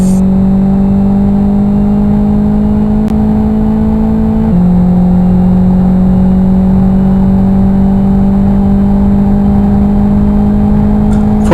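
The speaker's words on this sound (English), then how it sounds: "Full throttle here until this left-hand hairpin." Race car at full throttle on a Grand Prix circuit during an STD Championship sprint race, a loud steady engine drone holding high revs with one gear change midway, no talk.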